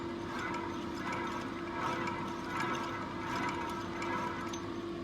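A steady, smooth mechanical whirring of a compressor crankshaft being turned by hand, with gentle rhythmic swells and faint ratcheting clicks, close by.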